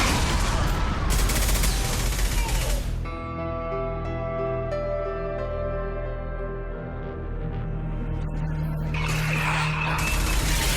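Heavy gunfire bursts out in the Mass Effect 2 game, dense rattling volleys at the start and again near the end, with a humming sustained tone filling the quieter middle stretch.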